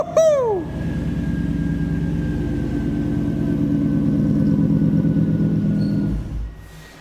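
A Toyota truck engine cranks with a rising whine and catches, then idles in a steady low rumble at close range in a fabrication shop before cutting off.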